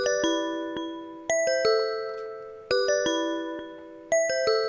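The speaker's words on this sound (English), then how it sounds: "The sound that has been used right here is the wavetable bells in the bells folder of Expand." Dry wavetable bell synth preset from the bells folder of the Expand plugin, played with no effects: bright struck bell chords repeating in a looping melodic pattern, each note ringing and decaying, loud and alone.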